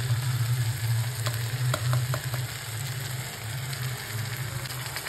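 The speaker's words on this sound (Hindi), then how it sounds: "अब इसमें दही डाल देंगे।" Curd being added and stirred into capsicum curry in a frying pan, a dense steady sizzle with soft scraping stir strokes and a few faint clinks, close and continuous.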